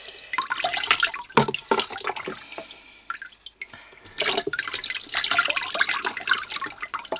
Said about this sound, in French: donc là on va rincer un peu la lame et la pierre.